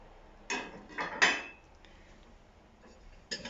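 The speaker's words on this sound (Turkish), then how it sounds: "Bulaşık makinesini boşaltmak" Dishes clatter in a few separate bursts as a dishwasher is emptied, plates and cutlery knocking together close by, with quiet pauses between them.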